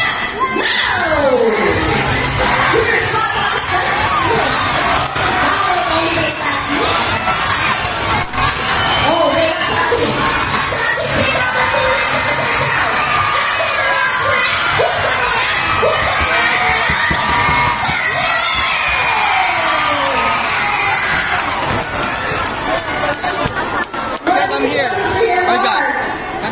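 Children cheer, shout and whoop amid dense crowd chatter during a ring race at Manila Ocean Park, a loud, continuous din of young voices that holds steady throughout.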